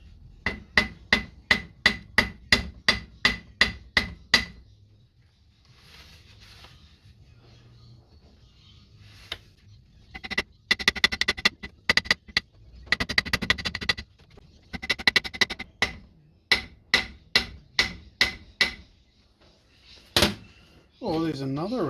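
A small hammer taps out bolt holes in paper gasket material on a Dodge truck manifold: quick bursts of crisp, rhythmic metallic taps separated by pauses, with some knocking and handling noise and brief talk between runs.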